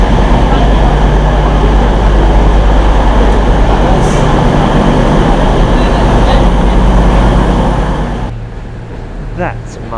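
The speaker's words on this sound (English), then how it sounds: "That's my train right there." A train pulls into a station in the Hitchin and Stevenage area, a loud sustained rumble and rail roar close by that fades toward the end, with faint voices in the background.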